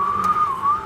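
A single whistled tone, close and clear, wavering slightly in pitch for about a second without accompaniment.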